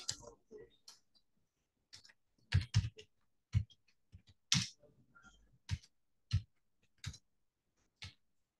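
Scattered keystrokes on a computer keyboard tap out a short entry, distinct clicks spaced irregularly with quiet gaps between, close and clear.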